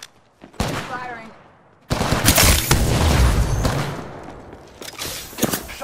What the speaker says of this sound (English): Shots fired to me.